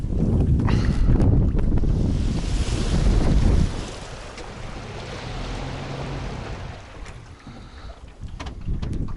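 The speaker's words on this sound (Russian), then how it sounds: "на реке вообще ветрище" Strong wind gusting across a river, with heavy microphone buffeting and rushing noise loudest in the first few seconds, then easing to a steadier, softer blow with lapping water beneath.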